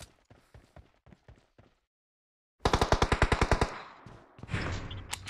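Gunfire rings out in the PUBG video game on the Sanhok map: a few scattered single shots, then a brief silence, then a loud rapid burst of about a dozen automatic rounds fired close by, with rumbling echoes trailing after.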